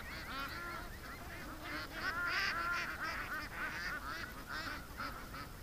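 Domestic ducks being herded home in the early morning honk and call continuously in a dense, overlapping flock chorus, steady and fairly close.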